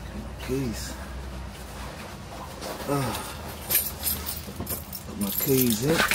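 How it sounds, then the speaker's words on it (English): Metal keys jangle and clink near a South London bus driver's cab, brief bursts scattered among engine rumble and background noise, with a voice speaking over them. "Got my keys in."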